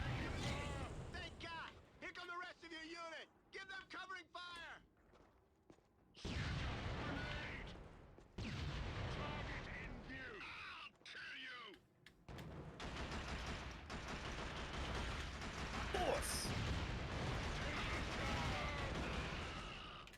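Killzone on the PS2 delivers a battle scene: bursts of gunfire and blasts in choppy stretches separated by short silences, fairly faint overall and mixed with shouted voices.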